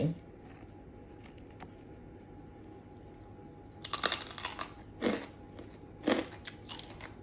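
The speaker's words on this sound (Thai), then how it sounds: "ชิมให้ฟังนะคะ ว่ากรอบแค่ไหน" Crispy air-fried pork belly bitten and chewed close to the microphone, a few sharp crunchy bites in a quiet room after a short pause.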